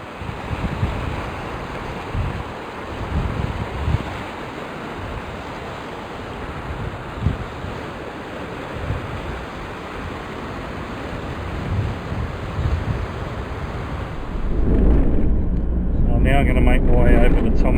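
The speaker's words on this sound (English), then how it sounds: "As you can see, the wind's blowing." Strong wind roars across a beach at Thomas Fishery with steady surf washing underneath, a continuous loud rush buffeting the microphone throughout.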